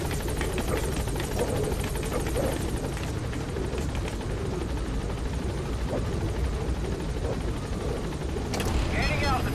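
Helicopter hovering at a landing zone in the video game Metal Gear Solid V: The Phantom Pain, a steady rotor and engine drone filling the whole stretch at close range, with game voices talking over it.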